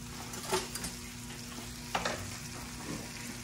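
A piece of veal fries in a pan with a continuous close sizzle, marked by a couple of brief scraping clinks of utensils against the pan.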